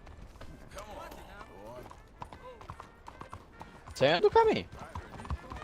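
A horse's hooves clip-clop in Red Dead Redemption 2, soft, irregular and fairly faint, under someone talking in Portuguese, with a louder burst of movement near the end.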